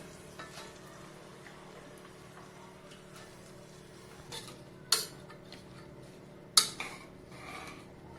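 Shredded cabbage is added to a turmeric tempering with a little water and fried in a pan. A low, quiet sizzle runs throughout, broken by a few sharp utensil clinks near the end.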